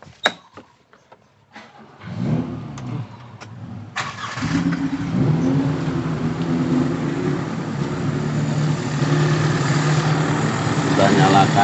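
After some faint clicks, a Ferosa car with a carburettor fault, heavy fuel use, misfiring and sooty spark plugs cranks and catches. It then settles into a steady, close idle with some roughness, while a voice talks over it at times.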